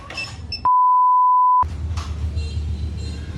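A single loud, steady electronic beep from a motorcycle alarm system lasting about a second, set against low rumbling background noise.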